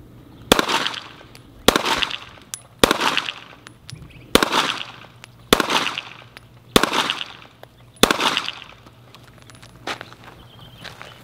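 Smith & Wesson M&P M2.0 pistol fired at an outdoor range: seven sharp, loud single shots spaced about a second apart, each with a quick echoing tail, and no talking.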